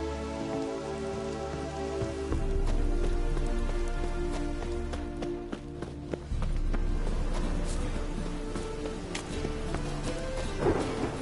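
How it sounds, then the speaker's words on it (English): Rain patters steadily on surfaces in The Witcher 3, a dense hiss of drops that swells partway through, with a faint low rumble beneath and no talking. "And it's raining again."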